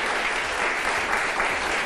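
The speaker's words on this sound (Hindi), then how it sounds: "क्यों तालियां बजाई हमने?" Studio audience applause on a Pakistani morning talk show, a steady, even wash of many hands clapping at close range with no talk over it.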